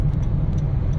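A car cruises in fourth gear with a steady low engine hum and road rumble from inside the cabin, continuous and moderately loud for about a second.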